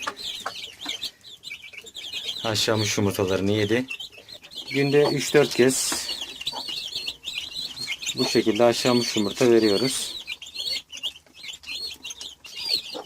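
Chicks of broody hens chirp in rapid, high, near bursts, with occasional clucking mixed in, while someone speaks intermittently over them.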